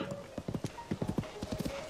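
Horse hooves clip-clopping in a Link video game, a quick uneven run of close hoof strikes at moderate loudness over a faint background tone.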